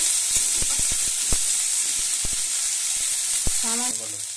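Onion paste masala frying in oil in a pan for a fish kalia, a steady hiss and sizzle broken by sharp scraping stir strokes, with a brief voice near the end.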